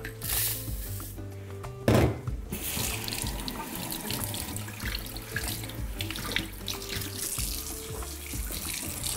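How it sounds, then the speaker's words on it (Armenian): Water runs steadily from a tap into a sink, with occasional rubbing and splashing as round rice is rinsed by hand, close and continuous. "Լվանում ենք հոսող ջրի տակ։"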